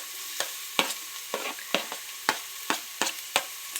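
Onion frying in a pan for egg fried rice, a soft continuous sizzle broken by about a dozen sharp spatula scrapes and clacks at a brisk, uneven pace, close and alone.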